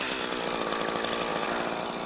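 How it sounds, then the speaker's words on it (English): Chainsaw making a felling cut through a tree, a loud, close, continuous high-revving buzz under load with no voices. "Now it's time for the felling cut. Use either a pushing or a pulling chain."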